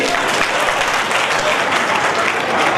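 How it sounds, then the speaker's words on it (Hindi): At a community award ceremony for meritorious students, the crowd keeps up loud, sustained applause, a dense unbroken rattle of many clapping hands from start to finish. "तालियों की गड़गड़ाहट थमनी नहीं चाहिए"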